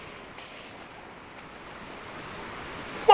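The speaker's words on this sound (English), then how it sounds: "Waves are getting actually really bad." Ocean waves wash steadily in the sailing game Sailwind, a continuous broadband surge with wind noise, swelling gradually louder toward the end with a sharp burst at the close.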